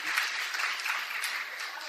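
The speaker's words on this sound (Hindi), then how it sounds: "एक बार जोरदार तालियां होनी चाहिए नरेंद्र के लिए।" Audience applause for the poet Narendra at a mushaira and kavi sammelan in Nawabganj, Bareilly: a steady, dense wash of clapping that holds evenly from start to finish.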